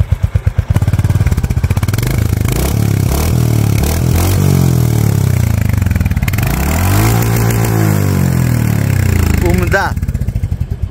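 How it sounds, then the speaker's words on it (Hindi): A Royal Enfield Hunter 350 motorcycle revs its exhaust close by, loud and continuous, the engine note rising and falling through several throttle blips while a voice talks over it. "एग्जॉस्ट नोट का तो आवाज ही नहीं सुने, वो भी सुन लो आप लोग एक बार भाई"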